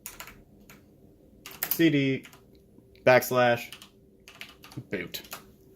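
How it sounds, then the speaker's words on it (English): Keys tapped on a computer keyboard in short scattered bursts, with a few brief voiced sounds between them. "So you're going to type CD /boot."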